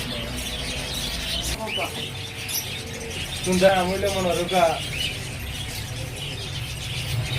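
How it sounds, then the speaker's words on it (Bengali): Pigeons call inside a loft, with soft coos and a brief warbling burst midway, heard beneath people talking and background room noise. "দেখাই, বিভিন্ন কবুতর আছে আপনাদেরকে।"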